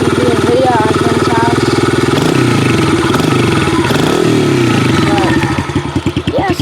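Yamaha TTR110 dirt bike fitted with an FMF exhaust, its small engine running loud and close with a throaty buzzing drone that rises and falls through a couple of revs before sputtering choppily near the end.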